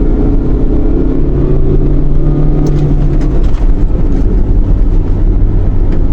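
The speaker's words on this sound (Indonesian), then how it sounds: "Oke, langsung aja kita coba performa mesinnya." A 2006 Hyundai Trajet GL8 minivan pulls away from about 40 km/h at 2500 rpm on an empty road, its engine droning loud and steady under heavy road and cabin noise from inside the car.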